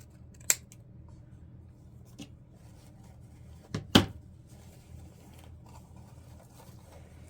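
Scissors snip through the trailing ends of a deco mesh welcome wreath, a few sharp isolated cuts spaced across a quiet room with soft rustling between them.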